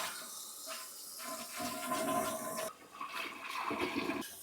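A toilet flushes after a running-toilet repair, with a rushing gush of water followed by gurgling and hissing as the tank refills, heard up close without talk.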